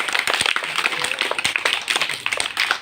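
Children and parents clap together at a school parent-teacher meeting, a dense, steady patter of many hands filling the room for a few seconds.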